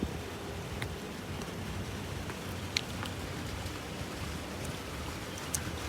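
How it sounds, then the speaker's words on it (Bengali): Medium rain falls steadily over a city, a soft, even hiss with scattered drips and light taps standing out here and there, fairly quiet and without voices. "সুন্দর বৃষ্টি পড়তেছে, বেশি জোরেও পড়তেছে না, আস্তেও পড়তেছে না, মিডিয়াম, গোড়া গোড়া বৃষ্টি, রিমঝিম বৃষ্টি আর কি"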